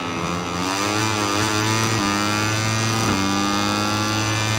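A Moto3 racing motorcycle in MotoGP 21 revs hard with steady harmonic engine whine, pitch dipping under braking then climbing again as the throttle reopens, loud and continuous with no talk.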